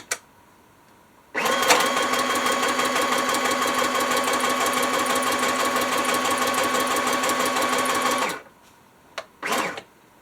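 A sewing machine stitches pockets made from paper book pages, running as one loud, steady, rapid mechanical whir for about seven seconds before stopping, followed by a couple of brief clicks and handling noises.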